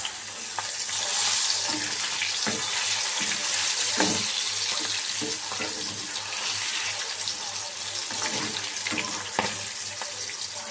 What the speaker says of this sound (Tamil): நான் ஃபஸ்ட் டைம் பொரிக்கிறேன் திருக்க மீன்